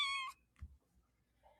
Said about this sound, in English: it's a kitten. Havoc wants to say hi, apparently.